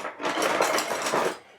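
Close-up, a few quick crisp snips as scissors cut through paper in a short rhythmic run.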